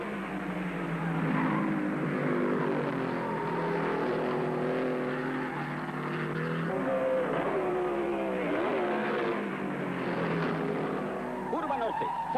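Ferrari and Maserati racing cars scream past at full speed, engines howling and shifting pitch continuously as they race, with a voice speaking over the steady roar.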